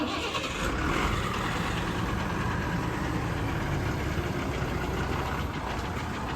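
A truck's diesel engine drones steadily and loudly at close range while the truck backs up to park, with no voices heard.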